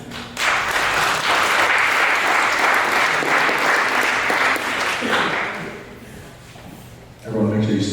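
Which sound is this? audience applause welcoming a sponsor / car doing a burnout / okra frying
audience applause welcoming a sponsor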